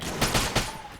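A sniper rifle shot in the Enter the Gungeon video game cracks out as a few quick blasts in about a second, loud over steady game music and effects.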